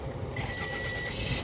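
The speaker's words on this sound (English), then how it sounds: "And I'm gonna start the car real quick." A 2001 Toyota RAV4 engine cranks with a thin whine and catches into a steady, moderately loud running note, close by and without talk.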